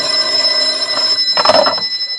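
A telephone rings in a Barrie Craig radio drama: a short electronic ring burst rises briefly over a steady tonal background, close and fairly loud, with no voices.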